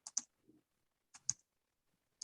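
Computer mouse clicks during an online committee meeting: a quick double click, a pause, another double click, then a single click at the end, all close and crisp in a quiet room with no talk.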